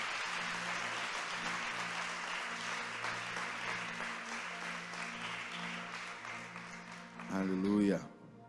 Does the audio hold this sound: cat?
no